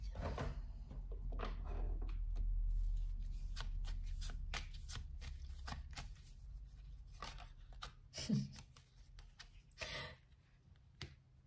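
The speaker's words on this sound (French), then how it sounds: "je vais prendre une carte de mon tarot de Marseille" Tarot de Marseille cards are shuffled and drawn at close range: quiet riffling and sliding card noises, a series of light flicks and taps, with a louder snap near the end.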